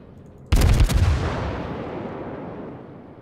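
Warship guns fire in World of Warships as a sudden loud multi-shot salvo boom that rumbles and slowly fades over a few seconds, with no speech.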